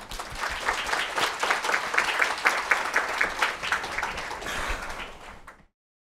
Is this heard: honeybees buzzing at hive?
no